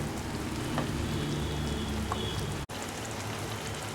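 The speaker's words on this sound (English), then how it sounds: "now into this add this ginger garlic paste and fry this till the raw smell gone" Steady dense crackling sizzle of ginger garlic paste frying in a hot pan, continuous and close, with a brief cutout near the end.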